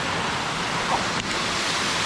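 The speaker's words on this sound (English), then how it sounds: "we made it to the waterfall" Costa Rica waterfall pouring steadily, a dense, even roar of rushing water filling the space, close and loud without pause.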